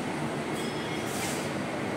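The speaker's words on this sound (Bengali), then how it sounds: "একটু আগে একটা মেট্রো চলে গেল" A metro train rushes past close by on an elevated line in Agra, a steady loud roar of wheels and rail noise filling the whole moment.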